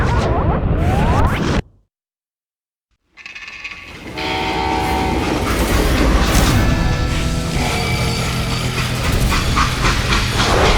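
A video game train in Call of Juarez: Gunslinger rumbles and clatters loudly after a brief silent gap, with metallic squeals and a steady rolling roar continuing to the end.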